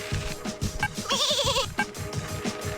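Sheep bleating in The Simpsons Skateboarding video game: a single wavering bleat of about half a second, heard over a busy, noisy game soundtrack.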